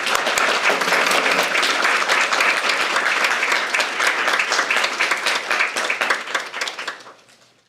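Sustained audience applause at a university lecture welcoming the guest speaker, dense clapping holding steady for about seven seconds before tapering off at the end.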